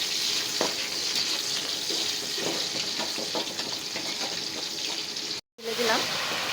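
Garlic and onion fry in oil as a tempering for bottle gourd greens, giving a steady close sizzle with light stirring scrapes and a brief dropout near the end.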